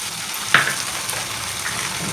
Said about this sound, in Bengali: এবার আমি দিয়ে দিচ্ছি বেটে রাখা সরষে পোস্ত।